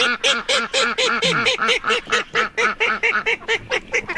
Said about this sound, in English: some of the ducks quack loud and some of them quack softly